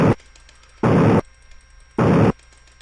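Bullets fired in the Unity game Blasteroids, three loud, abrupt noisy blasts of equal length spaced about a second apart, with near silence between them.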